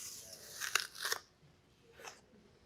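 An apple is bitten and chewed, giving two crisp crunches close together near the start and a softer crunch a moment later, all close and alone.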